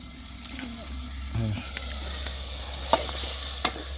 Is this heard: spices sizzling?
yes